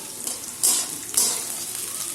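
Potato and cauliflower pieces frying in a pan hiss steadily, with two or three sharp bursts of louder sizzling as they are stirred, heard up close.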